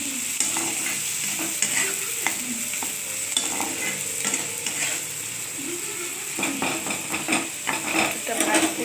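Onion and green chili fry in a pan for a jute leaf dish, a continuous sizzle with frequent scraping stirs of a spatula against the pan, fairly close, with brief utensil knocks.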